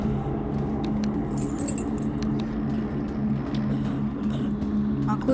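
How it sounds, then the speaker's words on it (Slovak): Keys jangling in the FNAF Into the Pit video game, several brief metallic jingles scattered over a steady low droning background hum. "Má kľúč do arkády."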